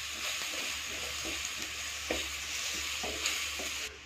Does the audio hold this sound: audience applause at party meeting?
no